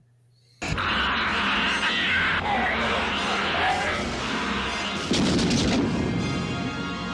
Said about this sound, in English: A lot of explosions. I like how everything blows up in here.